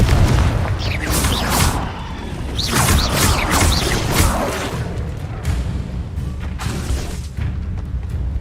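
Confringo blast spell explosions in Hogwarts Legacy, a series of loud booming bursts and crackling impacts spread across several seconds, with game effects between them.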